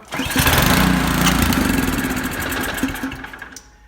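A Powersmart snow blower that won't start is pull-started. The engine sputters and catches briefly, running loud and rough for a few seconds before winding down, with no talk over it.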